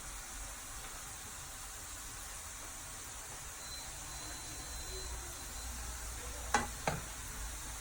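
Chin chin dough fries in hot oil, a steady soft sizzle, while a spoon stirs through it, ending in two quick scraping clinks.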